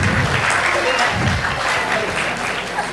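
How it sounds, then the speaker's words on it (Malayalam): Applause from the audience at an Onam celebration after a song performance, a dense and steady crowd of clapping mixed with some voices. "എല്ലാവരും കൈയടിച്ച് അവരെ അപ്ലോസ് ചെയ്യണം"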